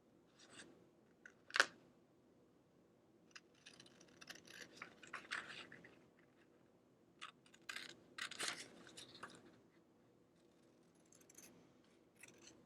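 Scissors trimming a paper-piecing pattern piece for a quilt block, with a sharp close snip followed by scattered quieter bursts of cutting and paper rustle, no talking.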